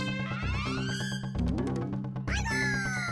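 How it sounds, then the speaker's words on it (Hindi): A cat meows twice in drawn-out, rising-then-falling cries, close and clear over a steady musical backdrop in a sitcom scene. "क्या जरूरत थी उस बिल्ली को यहाँ लाने की?"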